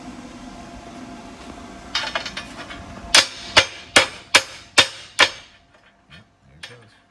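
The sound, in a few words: hammer knocking slag off plasma-cut metal pieces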